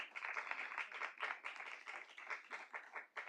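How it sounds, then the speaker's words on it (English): A board of directors meeting audience applauds training graduates, many hands clapping in a steady, moderately faint round that rises and falls over a few seconds, heard from a short distance with no talk. "Let's give them a round of applause."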